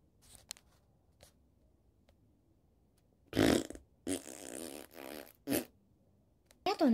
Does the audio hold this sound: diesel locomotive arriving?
no